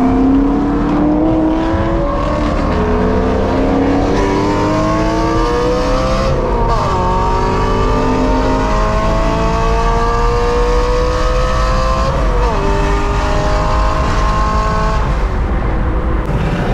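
A car with its exhaust valve open accelerates hard across a bridge during a night car meet, a loud, constant engine roar climbing in pitch through repeated gear pulls, each shift briefly dropping the tone before it rises again.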